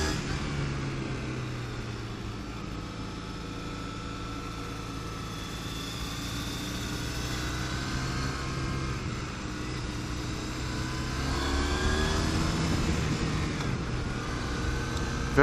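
A 2013 Triumph Thruxton motorcycle drones on the road while riding alongside a Street Triple, a continuous engine hum under wind rush that climbs in pitch near the end as it accelerates.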